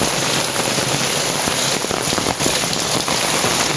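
Heavy rain pouring in a Konkan village, a dense, loud, continuous hiss of drops drumming on surfaces nearby, steady throughout with no voices.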